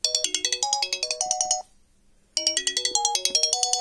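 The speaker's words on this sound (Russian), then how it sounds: "Я такого еще не видел, чтобы в Самсунге стояла мелодия Sony Эриксона." A Sony Ericsson melody ringtone plays loudly from a Samsung SGH-C520 phone, a bright electronic tune of quick stepped notes, pausing briefly before the phrase repeats.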